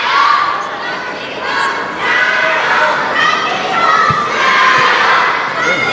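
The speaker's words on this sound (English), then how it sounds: "Crowd chanting passionately for ZHANG Jike." Crowd chanting for Chinese table tennis player Zhang Jike at a 2014 China Open men's singles quarterfinal, a loud, sustained mass of shouting voices rising and falling across the arena, with one brief sharp knock partway through.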